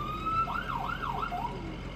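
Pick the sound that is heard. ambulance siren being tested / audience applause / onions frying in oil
ambulance siren being tested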